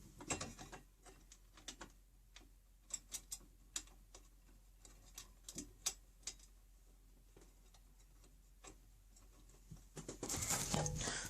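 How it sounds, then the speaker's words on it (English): While a note acceptor is installed in a Monopoly Boom and Bust gaming machine, a bolt is dropped into place amid a series of small metallic clicks, taps and rattles, close and fairly quiet, ending in a brief louder scrape. "I'm just going to drop a bolt in, as it won't stay in place"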